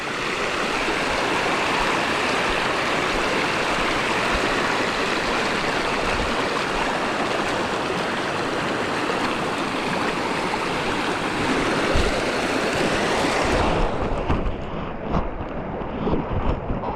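A stream of clear, fresh, shallow water flows in a steady, close, broadband rush with no pauses, and the sound thins and shifts slightly toward the end.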